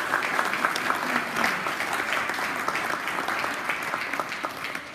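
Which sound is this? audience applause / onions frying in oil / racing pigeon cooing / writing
audience applause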